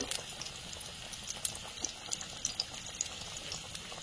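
Flattened fritters (bora) fry in a little oil, giving a faint, steady sizzle with soft crackles and pops throughout.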